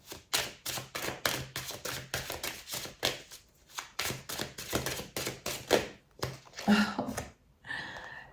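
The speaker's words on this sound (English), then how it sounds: "Okay, they want me to shuffle." Tarot cards are shuffled by hand in a long run of quick, crisp riffling taps, close and moderately loud, followed by a few softer handling sounds near the end.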